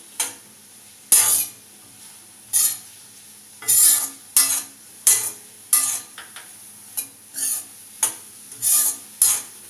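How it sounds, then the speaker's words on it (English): Mushrooms cook in a pan for white sauce pasta over a soft sizzle, broken by about a dozen sharp scraping stirs of a spoon against the pan, close and distinct. "Now we have added our mushroom. Let it get cooked."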